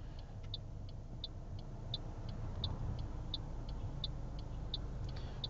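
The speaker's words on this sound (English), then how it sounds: "There's a lot of cars coming." Traffic rumbles through an intersection, a faint continuous low wash of passing cars heard from inside a vehicle, with a regular ticking indicator-like click repeating throughout.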